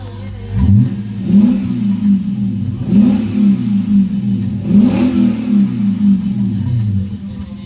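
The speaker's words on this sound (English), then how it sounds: "I don't know if you can even hear the exhaust, but I'll give it a little rev." A 2011 Lexus IS F's deep engine idles with a throaty exhaust burble, then revs up several times, each rise swelling and falling back in a rhythmic growl.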